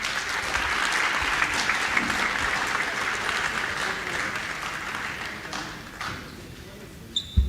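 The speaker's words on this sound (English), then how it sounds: "Can we please have a huge round of applause?" A conference audience applauds loudly with sustained clapping that gradually fades toward the end, with a few scattered claps at the close.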